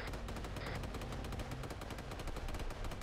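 A .50 caliber machine gun firing long continuous bursts of rapid, loud, dense shots with no pause, close and overwhelming, with no speech.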